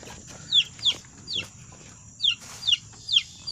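Chickens clucking in short, sharp bursts, several calls spaced irregularly over a low background murmur, fairly close by.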